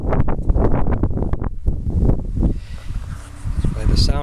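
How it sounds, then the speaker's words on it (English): Wind blowing outdoors during a safety glass removal job, gusting loudly against the microphone as a rushing roar that eases off and builds again toward the end. "By the sound of that wind blowing"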